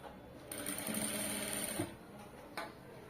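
Sewing machine stitching folded piping for a star-shaped neckline, a steady motor whir running for over a second then stopping, with a brief restart near the end.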